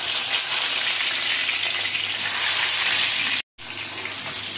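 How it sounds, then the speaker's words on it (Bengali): Brinjal pieces frying in hot oil, a loud continuous hissing sizzle heard close up, briefly cut off near the end before resuming, with no voices. "তেলটা গরম হয়ে গেছে, বেগুনগুলো আমি দিয়ে দিচ্ছি।"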